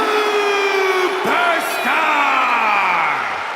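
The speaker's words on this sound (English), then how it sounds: "It's great to hear the crowd give this superstar the reception he deserves" A roaring arena crowd cheers and whoops steadily for a wrestler's entrance in the WWE 2K25 video game, a dense, loud wall of noise that swells with a few rising shouts.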